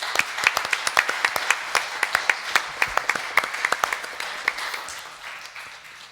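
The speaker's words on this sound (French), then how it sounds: "Et on peut applaudir cette belle équipe-là." A church congregation at a Mass claps in a steady patter of many sharp, overlapping hand claps, close and lively, before thinning out toward the end.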